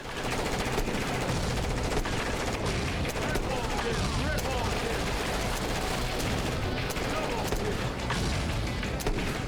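Sustained, dense gunfire from a light gun arcade-style shooter, with rapid bursts and blasts packed together at constant high loudness for the whole stretch.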